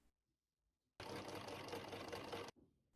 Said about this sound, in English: Top stitch the waist seam towards the skirt, only along the waistline,